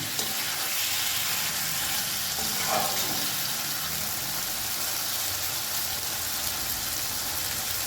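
Whole lote fish (Bombay duck) mixed with spices cook in a pan over a medium gas flame, giving a steady, even sizzle and crackle of frying that runs without pause, with no talking.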